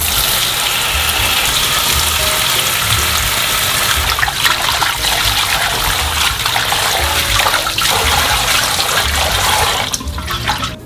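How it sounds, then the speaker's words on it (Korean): Cold tap water pours steadily while spinach is rinsed by hand, a loud continuous splashing stream with irregular sloshes, stopping just before the end. "손질한 시금치는 찬물에 2~3번 깨끗하게 씻어주세요."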